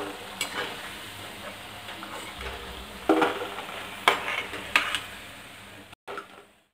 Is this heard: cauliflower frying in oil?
yes